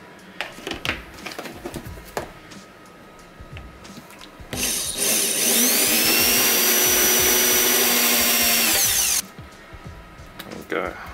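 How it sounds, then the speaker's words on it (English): A power drill whirs loudly for about four seconds, drilling holes in canards for a Ford Fiesta MK6, with quieter handling clatter and knocks before and after. "I'll drill the holes out"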